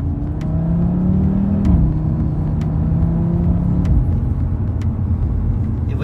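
Audi RS3 accelerating on the road, its engine note climbing through gear changes with a steady rumble and whir, heard continuously from inside or close by with faint clicks of shifts.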